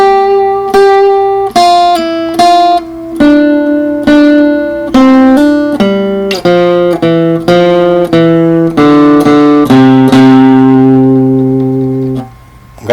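Electric-toned guitar plays a short phrase of clear, sustained single notes in a steady rhythm, close and loud with no talking, ending on a long held note that rings out.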